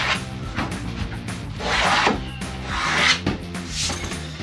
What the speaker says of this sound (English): these razor blades work a little bit better for cutting the laminate